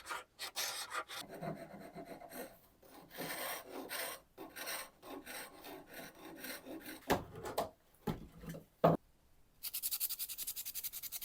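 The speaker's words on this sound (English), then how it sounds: "here's me just scraping a couple of the pieces" Hand scraping on pieces of an old Victorian wooden table during restoration, heard as a steady rough rasping with repeated strokes and short pauses, fairly close but low in level, with no talk.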